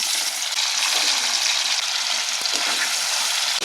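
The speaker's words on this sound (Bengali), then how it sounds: "এগুলো ভাজা হবে।" Paneer cubes frying in hot oil in a kadai, a loud, dense, continuous sizzle with faint stirring scrapes, close up and steady with no voices.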